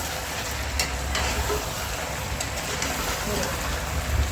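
Chicken stirred in a pan after salt is added, a steady close sizzle with soft scraping running continuously, a few brief clicks from the spoon.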